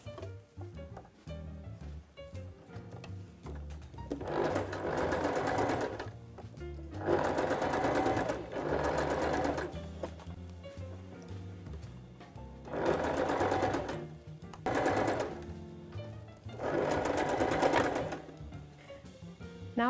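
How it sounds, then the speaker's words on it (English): Sewing machine stitching a seam on a dress made from a pillowcase, four long runs of steady rapid whirring stitches separated by short pauses, close and clear with no speech. "And I'm just going to machine all the way along."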